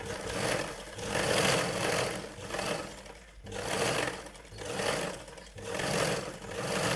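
A sewing machine stitches a blouse sleeve in steady runs, its whirring rising and easing in a regular rhythm of bursts about a second long, close and alone with no talking.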